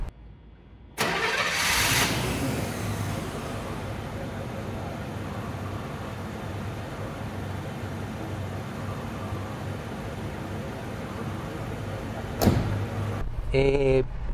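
A Cadillac Seville's big V8 cranks and catches after about a second, then settles into a smooth, steady idle close by, with a brief mechanical click near the end.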